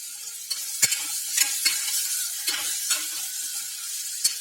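Ingredients sautéed and stirred by hand in a pan for an aloo chapathi and vegetable curry, giving a steady soft sizzle with a few sharp scraping clicks of the spoon, close and alone.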